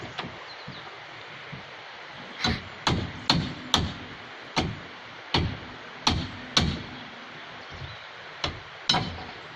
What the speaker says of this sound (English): my wife is getting violent with a hammer